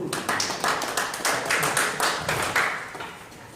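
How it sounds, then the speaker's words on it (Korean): A church audience at a prayer meeting claps after hymn singing by a Pyongyang-style art troupe, a fairly small group giving close, distinct, uneven claps in loose bursts. "박수 한번 부탁합니다"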